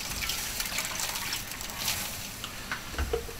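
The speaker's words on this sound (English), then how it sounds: "I'm gonna put just a little bit of water in there too" A little water is poured into a pot of pulled barbecue pork, a steady splashing gush that runs for several seconds with no talk.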